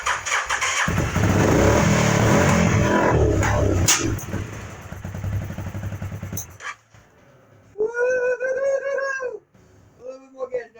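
A Mini Baja truck engine under construction fires up and runs roughly at close range for about six seconds with uneven revving, then cuts out, followed by excited voices.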